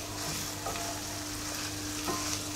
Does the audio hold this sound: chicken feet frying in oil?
yes